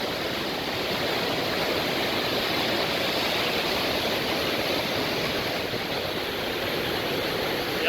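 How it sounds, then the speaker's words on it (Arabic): Large waterfall in rural Norway, a loud steady roar of falling water with spray, continuous and close, with no voices over it. "الشلال الفخم الكبير،"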